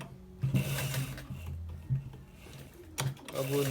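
A sewing machine stitches the double neck of a designer shirt in short, quiet mechanical bursts with clicking, ratcheting gear sounds, with a faint voice nearby.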